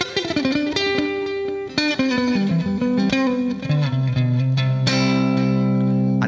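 A clean electric guitar plays through Overloud TH3 amp software with reverb and delay, giving loud ringing notes and chords with sustained tails and echoes, and no voice over it.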